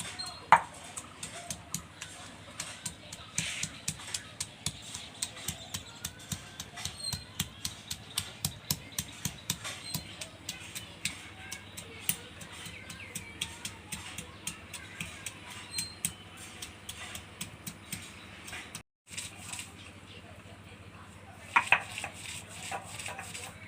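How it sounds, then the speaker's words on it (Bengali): Garlic being ground into paste by hand on a stone in a village kitchen, a steady run of close, rhythmic scraping knocks that pauses briefly near the end before resuming. "প্রথমে আমি রসুন বাটে নেব।"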